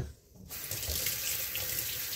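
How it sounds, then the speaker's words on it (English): Hands are washed under a running kitchen tap, a steady, close hiss of flowing water that starts abruptly and continues without break. "gotta wash my hands."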